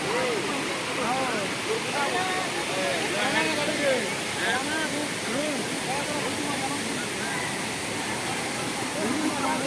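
A waterfall pours down in a continuous broadband rush, steady and close, with many people's voices chattering throughout over the roar.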